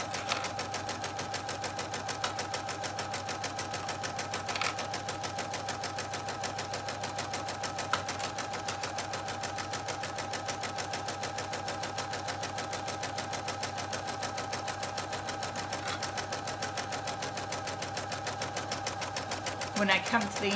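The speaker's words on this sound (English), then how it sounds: "I'm just going to sew along this seam, remove my clips as I go." A domestic sewing machine stitches steadily along a fabric seam, its fast even needle rhythm running close and continuous throughout, with a few faint clicks near the end.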